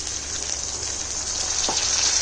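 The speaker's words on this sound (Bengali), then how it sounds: "উল্টে দিলাম এবং এই পর্যায়ে একটু জলের ছিটা বলতে পারো" Stuffed bitter gourd frying in a pan just after a splash of water, a steady loud hissing sizzle with a brief sharper spit near the end.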